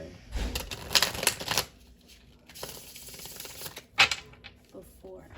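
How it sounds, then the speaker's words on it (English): Tarot cards are shuffled close up in several quick riffling bursts with papery flutters, separated by brief pauses and a few light taps. "I want to shuffle these cards real quick"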